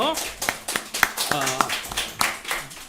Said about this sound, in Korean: 우리 석훈이에서 박수 한번 쳐주시죠